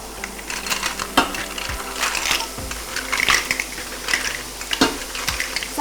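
Mussels poured into a hot pan, crackling and sizzling at close range with scattered sharp shell clicks and clatters against the metal, uneven and moderately quiet throughout, no voices.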